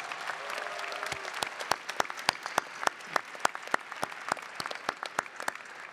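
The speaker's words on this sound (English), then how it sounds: "Please join me in a round of applause" Sparse applause from an audience at a university commencement ceremony, distinct individual claps ringing out in an irregular patter from a modest number of people, faint and spacious with no voices.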